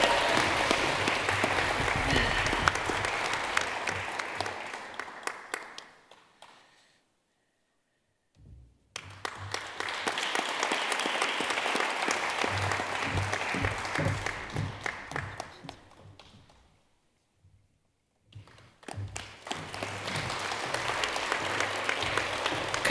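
Audience applause at a Master of Energy Transition inaugural graduation ceremony, broad and sustained in two long waves that fade out between them, with a short restart at the end.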